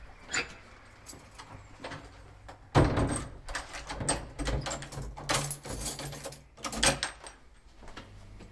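A key turning in a front door lock, with a string of close metallic clunks, rattles and knocks spread unevenly over several seconds and no talking.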